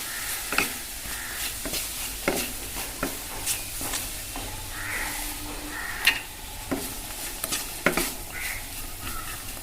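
Popcorn gets stirred into melted chocolate in a pan, with repeated scraping and tapping of a spoon against the pan at an uneven rhythm over a faint sizzle, close and fairly quiet.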